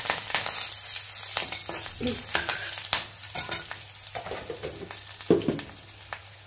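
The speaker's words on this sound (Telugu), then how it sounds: "ఇదిగోండి వెల్లుల్లిపాయలు వేసుకున్నాము జీలకర్ర ఇదిగోండి కరివేపాకు వేసుకున్నాము" Garlic, cumin seeds and curry leaves fry in hot oil in a pan for a spicy prawn and chana dal curry, giving a steady close crackle with scattered sharper pops and stirring scrapes, no voices.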